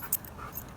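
A dog makes a brief, faint whimper and soft panting breaths close by in a quiet moment, lasting under a second.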